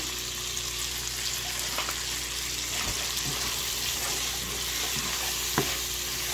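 Shrimp frying in a pan on the stove, an even close sizzle that hardly changes, broken by a few soft knocks and scrapes of stirring.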